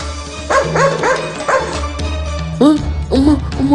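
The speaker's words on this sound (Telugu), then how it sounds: "కుక్క కుక్క వస్తుంది." A dog barks repeatedly in quick bursts, close and loud, with some yips among the barks over a low steady background hum.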